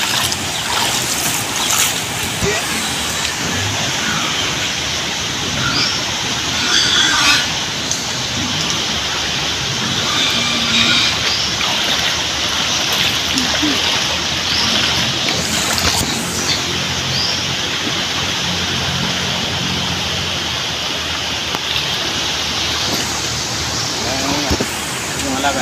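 Steady rain falls over a flooded rice field with deep water, making a broad continuous wash of patter and splashing, loud and close throughout, with occasional voices faintly underneath.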